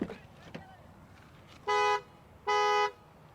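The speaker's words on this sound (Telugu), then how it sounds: "ఒకసారి అయితే మీకు వినిపిస్తాను హార్న్ సౌండ్" An aftermarket horn fitted to a Tata Punch gives two loud, rich toots of about half a second each, with a short gap between them, following a few quiet moments inside the car.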